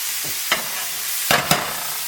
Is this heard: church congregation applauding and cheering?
no